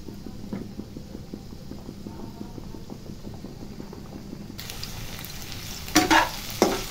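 Vegetables for khichdi fry in a pan while a spatula stirs them in steady rhythmic scrapes; the sizzle brightens partway through, with a couple of louder clinks near the end.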